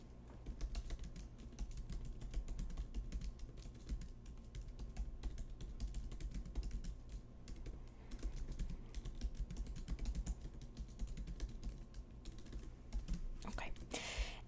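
Steady, close typing on a computer keyboard runs for the whole stretch, with soft, rapid key taps in a quiet room during an at-home nurse visit role-play.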